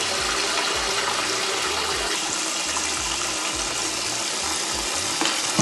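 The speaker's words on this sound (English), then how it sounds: "let's go to the sink. I'm using like hotter water" Hot tap water runs hard into a sink in a steady, loud, continuous gush with a hissing splash. It stays unbroken the whole time and no one speaks.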